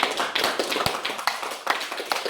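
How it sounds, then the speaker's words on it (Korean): Middle school students clapping during a career-day lecture by a film director, a brisk scattered patter of many hands at moderate distance, steady throughout with no speech over it. "할 사람들만 박수 한번 쳐봅시다."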